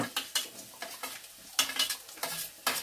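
Chopped garlic stirred into hot oil after garam masala in a home kitchen, a spoon scraping the pan in quick irregular strokes over a soft sizzle, close and fairly quiet.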